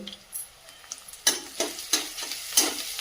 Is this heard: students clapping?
no